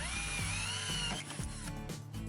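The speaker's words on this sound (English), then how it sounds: "Drill out one of the pop rivets in the end cap" A power drill whines loudly at high speed, then bites and judders as it drills out a metal pop rivet in an RV awning roller end cap, slowing in short bursts near the end.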